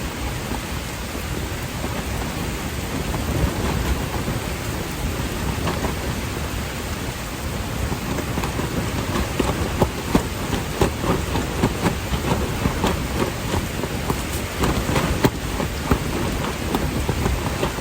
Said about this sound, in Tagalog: Bumabayo na ang ulan. At ang bagyo.